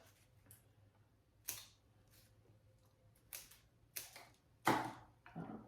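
Sharp snipping cuts through a flower stem with scissors or shears while arranging grocery-store flowers, several crisp clicks spaced apart and fairly close in an otherwise quiet room.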